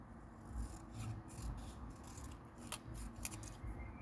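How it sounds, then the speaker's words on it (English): Scissors snip through a paper sentiment strip during card making, a few short crisp cuts with light rasping, close and alone with no talk. "I'm just going to cut it down a bit."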